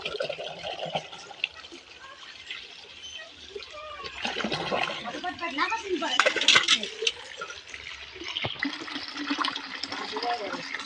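Water being filled into a container and poured at home, with splashing, gurgling and trickling that swell midway, mixed with people talking nearby.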